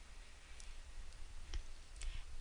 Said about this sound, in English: And we are going to click Go.